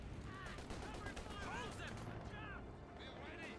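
Sustained machine-gun fire from an MG42 in Company of Heroes 2, a dense rattling barrage with scattered battle noise, running steadily under a voice commentating.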